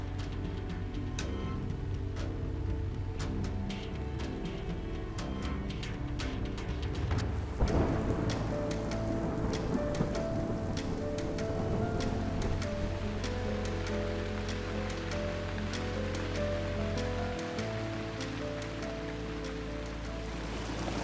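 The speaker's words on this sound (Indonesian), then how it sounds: "Hujan lagi." Rain falls steadily and densely on surfaces while rolling thunder rumbles through the middle, a deep boom swelling then fading under the constant patter, no voices.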